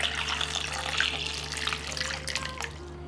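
Water pours and splashes into a sink to wash limes and a strawberry soaked in baking soda, a continuous close running-tap rush with a low hum underneath.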